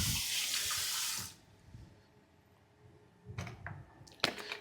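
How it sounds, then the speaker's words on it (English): Water runs from a kitchen tap into a sink for hand washing while okra stew is cooked, a steady close gush for about a second before shutting off, followed by faint handling knocks. "wash my hands first"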